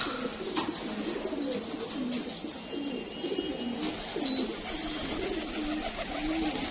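Pigeons coo repeatedly in soft, low, rolling calls, several birds overlapping at close range against a quiet background.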